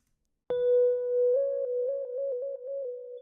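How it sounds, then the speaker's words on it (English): A single sustained synth tone enters abruptly, holding steady with a bright bell-like attack, then pulses in a quick wobbling rhythm as it continues alone. "So basically this is a synth and it's just"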